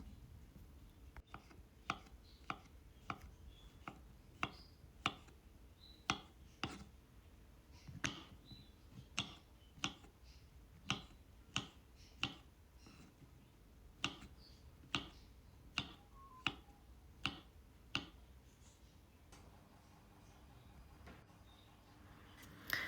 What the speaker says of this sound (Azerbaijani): Göbələkləri qabığını soydum, yudum və bu formada doğrayıram.